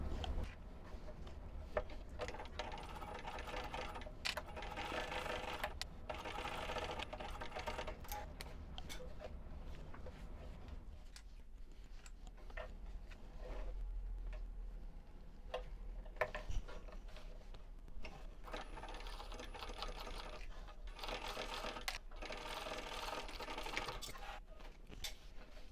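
A sewing machine bastes and top stitches a fabric pouch with its lining, giving a faint, steady, ticking hum throughout with small clicks along the way.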